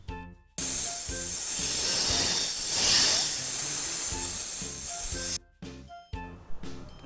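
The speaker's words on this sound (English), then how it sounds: "Snake makes a hiss sound." A snake's hiss, one long, steady, airy breath of noise swelling slightly at its middle, alone over a light repeating kids' music bed.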